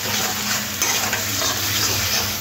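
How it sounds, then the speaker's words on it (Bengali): Onions fry in oil with spices and a pinch of sugar while a spoon stirs them in the pan, a loud continuous sizzle with scraping stir strokes and no talking. "দিয়ে ভালো করে মশলার সাথে মিশিয়ে নেব"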